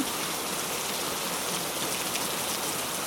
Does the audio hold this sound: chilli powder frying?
no